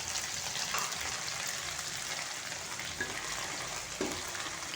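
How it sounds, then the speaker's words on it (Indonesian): Anchovies fry in leftover oil from cooking eggs, giving a constant close sizzle with faint stirring scrapes and no talking. "minyak yang bekas telur tadi kita gunakan untuk menggoreng teri ya"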